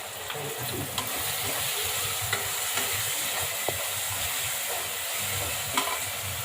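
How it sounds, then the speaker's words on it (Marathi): Carrots and beans sautéing in hot oil for a vegetable basmati pulao, a steady broadband sizzle with occasional soft scrapes of stirring, close and even, no voices. "आधी गाजर, बीन्स याला जास्त वेळ लागतो ना, ते टाकून घ्यायचं तेलामध्ये चांगले."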